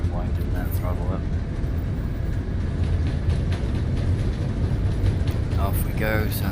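Airbus A380 engines at takeoff thrust in Microsoft Flight Simulator, departing Manchester, UK: a loud, continuous rumbling roar runs throughout, with someone talking over it at the start and end.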